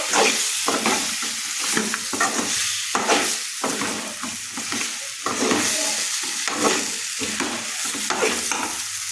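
Chicken curry sizzling in butter in a pan while being stirred, with repeated scraping strokes over a constant frying hiss, close and fairly loud.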